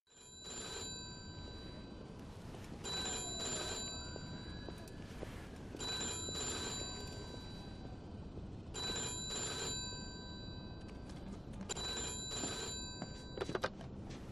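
An old-style telephone bell in the Mafia 2 video game rings in repeated bursts with short pauses between them, clear and moderately loud against a low background hum.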